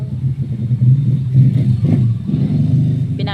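Cars pass on the road right beside a house, one engine swelling into a close, loud rumble with some rattling as it goes by, and the road noise keeps on without anyone talking.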